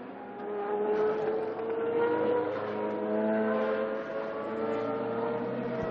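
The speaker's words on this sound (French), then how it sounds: "Cette magnifique Peugeot numéro 8" A Peugeot 908 race car engine drones steadily on track at Paul Ricard, a sustained, moderately loud tone with slight pitch shifts as it holds speed, with no voices.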